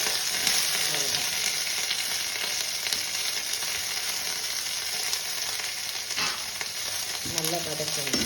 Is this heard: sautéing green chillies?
yes